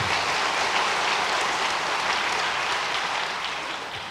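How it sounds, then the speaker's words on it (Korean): A church congregation at a Sunday service applauds award-winning students, sustained dense clapping filling the room steadily and tapering slightly at the end. "큰 박수로 축하해 주시길 바랍니다"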